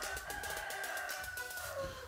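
Chickens cluck and murmur continuously, with a drawn-out crow-like call running through, close by and without speech.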